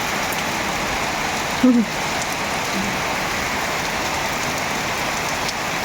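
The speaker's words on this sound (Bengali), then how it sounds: "দেখো বৃষ্টি কি সুন্দর বৃষ্টি হচ্ছে খুব সুন্দর বৃষ্টি" Steady rain pours outdoors in a continuous even hiss, close and moderately loud, with a brief thump partway through and no talking.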